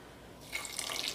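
A little water is poured onto jaggery while making athirasam. The quiet trickling splash starts partway through and continues softly up close.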